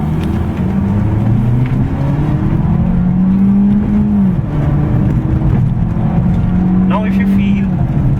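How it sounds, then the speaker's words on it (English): Ford Fiesta automatic in L mode, its engine revving with rising and falling tones as the gearbox holds and then shifts gears, loud and close throughout, with a voice talking over the engine. "Now if you feel the sound and the gear shifting sound, the car automatically downshifts when you hit lower than 4000 or 3000 rpm"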